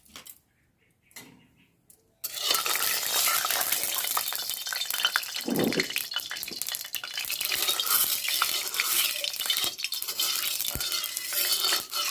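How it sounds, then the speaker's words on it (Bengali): Tangra fish frying in mustard oil in a kadai, starting with a few quiet clinks before a loud, steady crackling sizzle takes over and runs continuously, with occasional stirring scrapes. "ট্যাংরা মাছগুলো ভাজবো তার জন্য কড়াতে দিয়ে দিচ্ছি সর্ষের তেল"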